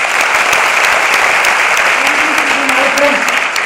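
Loud, dense applause from a seminar audience filling the room, steady and sustained throughout, with faint voices murmuring underneath near the end.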